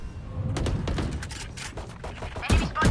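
Gunfire in the tactical shooter Valorant: a quick run of close, punchy shots and thumps over busy game ambience, ending in a couple of louder bursts.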